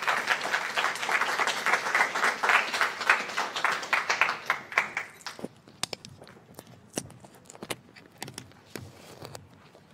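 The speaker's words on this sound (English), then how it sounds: "please give a round of applause for Council Member Vivian Moreno." An audience at a San Ysidro town hall applauds a council member, strong dense clapping for about five seconds that thins into scattered individual claps and fades.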